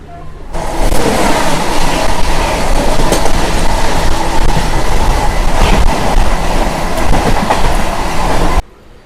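A MEMU passenger train running just after leaving Tadepalligudem station, a loud steady rumble with rattling wheel clatter from on board, cutting off sharply at the end.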